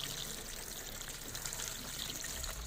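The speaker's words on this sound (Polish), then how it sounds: "Zobaczcie, jak spłukamy wodą." Water sprayed and poured to rinse a surface being cleaned of lime efflorescence, a steady broad hiss and splash that stays loud and close throughout without pause.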